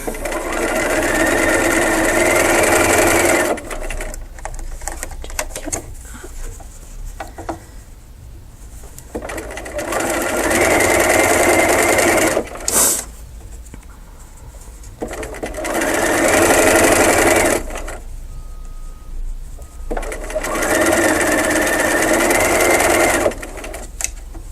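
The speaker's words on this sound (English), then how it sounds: "Again, just sew to the slit." Sewing machine stitching quilt pieces cut with a Slit 'N Sew melon template, running in three long steady bursts separated by quiet pauses, close and loud with no talking.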